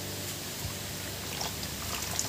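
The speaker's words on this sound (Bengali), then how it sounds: "এবার এর মধ্যে জল দিয়ে দেবো।" Plain water pours steadily into flattened rice for a recipe, a continuous soft hissing trickle at moderate distance with no talking.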